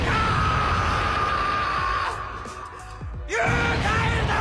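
A man screams as loud as he can in a scene from the Japanese film Kyou Kara Ore Wa. The loud, sustained yell breaks off briefly midway and then resumes at full force.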